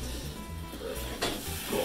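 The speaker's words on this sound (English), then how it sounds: "So hear that sizzle" Grilled cheese sizzles in a frying pan, a steady soft hiss and crackle close by, with faint clinks as it cooks.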